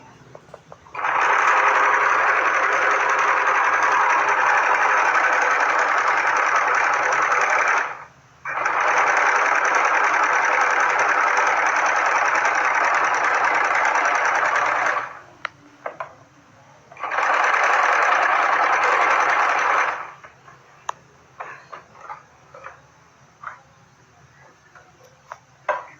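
A sewing machine stitches down the bottom of a salwar in three long, fast whirring runs, separated by short pauses, then light clicks of handling the fabric.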